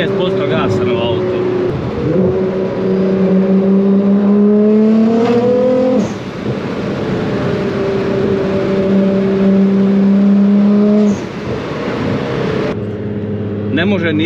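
A Nissan GT-R engine accelerates in repeated rising pulls, the pitch climbing then dropping at each gear change, loud and close from inside the car over a steady road rumble.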